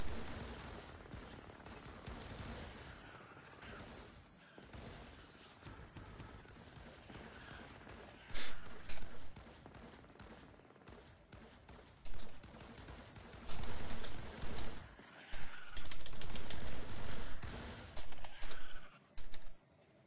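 Rapid bursts of turret gunfire in the video game Firefall, dense and loud, with louder volleys clustering toward the end over a busy, continuous game soundscape.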